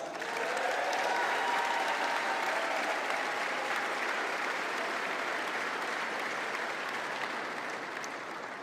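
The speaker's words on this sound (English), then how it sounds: "we need to give them a big round of applause" A large audience breaks into loud, sustained applause that holds steady for several seconds with no talking over it, the clapping dense and even from start to finish.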